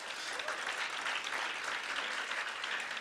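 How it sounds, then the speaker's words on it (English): Sustained audience applause fills a gala dinner hall, a dense, steady wash of many hands clapping at even loudness throughout with no pauses. "oh yes, we can clap."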